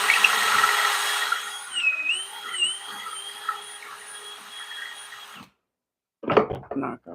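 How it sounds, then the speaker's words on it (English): A power drill whines at high speed for about five seconds, its pitch dipping and recovering as it bites, then stops dead before a short burst of clattering and handling noise. "Drill with this."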